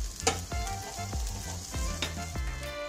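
Dandelion leaves and spinach with flour, milk and cream sizzling steadily in a frying pan, a close continuous crackle with repeated soft scraping knocks of stirring.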